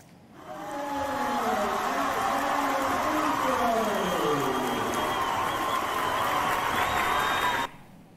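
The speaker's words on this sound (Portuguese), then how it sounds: "E assim que ela acerta, a torcida explode de alegria." A packed basketball crowd roars into sustained cheering after a made shot, a dense wash of voices and shouts holding steady for several seconds before cutting off abruptly.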